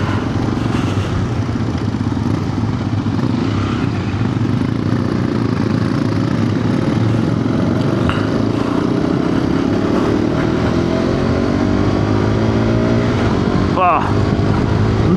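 A Hero Xpulse 210 motorcycle engine revs steadily and rises in pitch as it accelerates during a group ride, a loud, constant drone with wind rush and a person talking over it.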